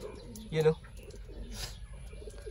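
A short, low pigeon coo rises near the start, followed by faint chirps against quiet outdoor background noise.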